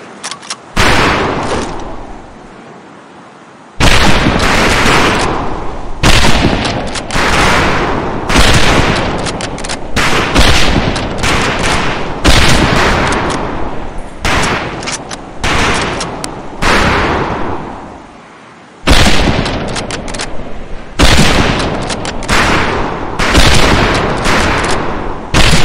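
Rifle range gunfire in the World War II shooter Medal of Honor: Pacific Assault, loud repeated rifle shots in dense overlapping volleys that go on for about twenty-five seconds with only brief pauses.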